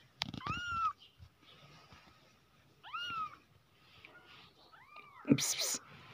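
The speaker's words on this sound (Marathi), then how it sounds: "तर हे 2 मांजर आहेत" Several cat meows, close and clear, spaced out with pauses between them, ending in a sharp higher-pitched cry.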